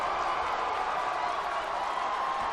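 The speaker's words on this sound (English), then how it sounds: "Summit cheer section goes crazy." A basketball student cheer section roars at Summit's 2015 game at Mountain View, a dense, loud crowd noise holding steady and unbroken for the whole moment.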